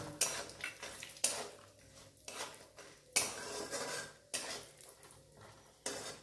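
Cashews go into a pan and are stirred while frying for vegetable fried rice: a repeated metal spatula scrape and clatter against the pan every second or so, with a faint sizzle underneath and no talking.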